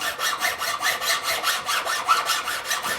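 Rhythmic back-and-forth rasping as a solder joint inside a silver ring set with gemstones is cleaned up, about a dozen even strokes in quick succession, close and clear with no talk.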